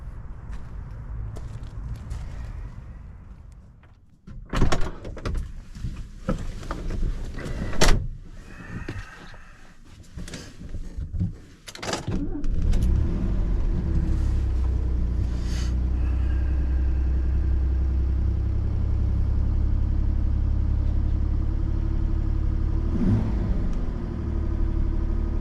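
A 1966 Mercedes 230S fintail with a door opening and shutting in a few sharp knocks, then the engine cranking and catching into a steady, loud low idle that runs on to the end.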